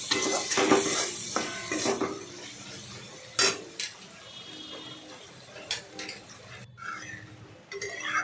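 Coriander leaves are stirred into pabda fish curry in a pan, with an uneven run of utensil scrapes and clinks against the pan over a faint background sizzle.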